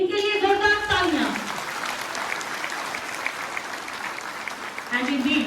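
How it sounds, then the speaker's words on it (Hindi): An audience at a World AIDS Day event in Jammu bursts into loud, sustained applause, a dense wash of clapping that follows a speaker's voice and fades as talk resumes. "इनके लिए जोरदार तालियां"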